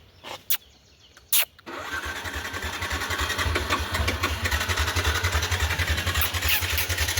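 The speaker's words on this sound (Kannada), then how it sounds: "ಮಳೇಲಿ ಬೈಕ್ ಇಳಿಸಿ ಬೈಕ್ ಸ್ಟಾರ್ಟ್ ಆಗ್ತಾಯಿಲ್ಲ" A motorcycle, wet after riding in rain, gives a couple of brief clicks and thumps, then cranks and catches, settling into a loud, steady idle that runs close by for several seconds with no talking.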